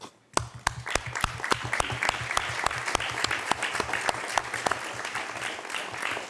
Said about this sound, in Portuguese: les pido un aplauso para ustedes mismos